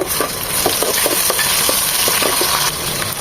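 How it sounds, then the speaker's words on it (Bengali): Onion with a spoonful each of ginger and garlic paste, slightly watery, frying in a pan: a constant sizzle broken by a quick series of spoon scrapes and taps, close-up with no voices. "এক চামচ আদা এক চামচ রসুন উঁচু করে পেস্ট করেছি তাই একটু লিকুইড হয়ে গিয়েছে সেটাকে এক মিনিট ভেজে নেব"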